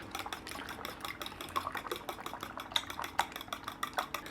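Peanut butter and beaten eggs are stirred in a bowl, a utensil scraping and clicking against the sides in a fast, uneven rhythm of repeated close taps, steady and moderately quiet throughout.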